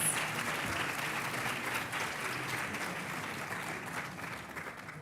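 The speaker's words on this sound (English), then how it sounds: "Please give them another round of applause." Sustained audience applause fills a university public lecture hall, a dense even wash of clapping that holds steady and tapers slightly toward the end.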